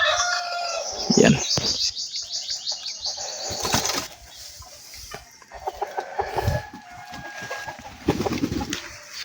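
Red junglefowl roosters crow and cluck near their new perches, with bursts of wing flapping and rustling between calls, loud and close, and a faint voice in the background.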